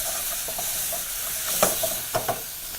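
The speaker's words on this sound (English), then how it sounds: "Give it a nice mix once more." Vegetable pilau, a Kenyan rice dish, being stirred in a pot: soft steady sizzling and steamy hiss with a handful of distinct spoon scrapes and taps against the pot toward the end, close and fairly quiet.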